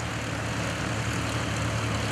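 Aerobatic propeller airplane rolling overhead during a lakeside airshow, a steady loud engine drone with a constant low hum that holds for the whole stretch and never fades.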